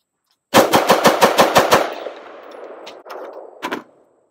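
Gunshots from a PSA 10.5-inch AR-style rifle build at a shooting range: a rapid burst of about eight loud shots in quick succession, then a lingering echo and two more separate shots.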